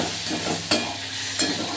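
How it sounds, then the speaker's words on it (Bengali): Tomatoes and chopped onion are stirred in hot oil, giving a loud close sizzle with two sharp scrapes of the spoon against the pan in a short burst. "এবার এই তেলের সঙ্গে ভালো করে আমি নেড়ে নিলাম টমেটোগুলো।"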